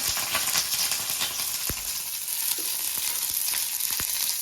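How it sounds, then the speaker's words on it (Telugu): Green chillies fry in a pan with a dense, continuous hiss and crackle, close and loud, with a few sharp pops and light knocks, no voices. "పచ్చిమిర్చి కూడా వేయించుకోవాలి."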